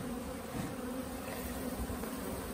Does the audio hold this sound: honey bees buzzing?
yes